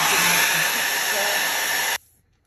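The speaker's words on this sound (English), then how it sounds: "we'll grab the hairdryer and bring it in" A hair dryer drying a watercolor painting blows steadily with a loud, airy whoosh for about two seconds, then cuts off abruptly into near silence.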